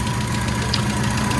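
A classic Mini car's 1275 engine runs at a steady idle, a close, loud, even mechanical rumble with a slight knocking pulse and no speech.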